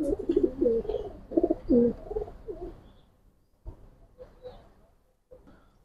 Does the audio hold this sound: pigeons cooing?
yes